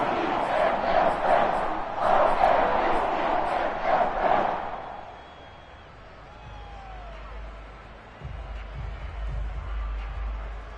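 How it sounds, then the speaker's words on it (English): A football stadium crowd at a Ravens game claps and cheers in rhythmic bursts for several seconds, loud and dense, then fades to a quieter murmur with low rumbling thuds near the end. "That's why you hear that clapping on the sidelines, right?"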